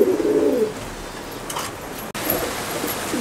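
Pigeons in a breeding loft coo softly, with a low throaty call at the start and faint bird sounds afterward, heard fairly close.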